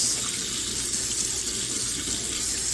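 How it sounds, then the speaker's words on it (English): Water runs steadily from a tap into a sink during glass-etching cleanup. It is a loud, continuous hiss and gush close by and keeps going unbroken throughout. "So I'm going to turn the water on."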